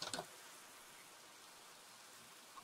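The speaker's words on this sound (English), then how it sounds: "When I wake up, it's still raining." Rain falling in the Minecraft video game, a steady, soft hiss of rainfall that holds evenly throughout after a brief louder burst at the start, with no talk over it.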